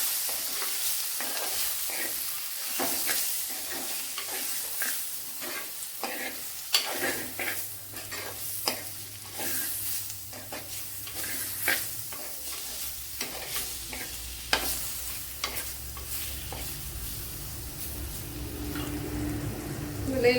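Spices for a netholi fish recipe frying in a pan and being stirred with a spoon, repeated scraping strokes in an irregular rhythm over a steady close sizzle, with no talking.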